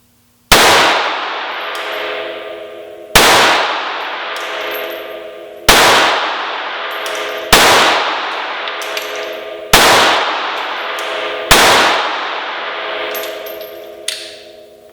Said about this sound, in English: This is the Glock 42 versus the LCP II, both 380 caliber, both 6 rounds, and we're going to go right here at the target